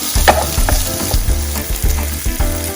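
Sliced onions and green chilies frying and being stirred in a pan, a close, steady sizzle with repeated scraping stir strokes throughout.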